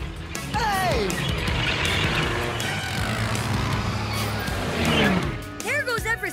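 A runaway cartoon snowcat drives off on its own, its vehicle rumble running steadily under busy music and sliding whistle-like effects for several seconds.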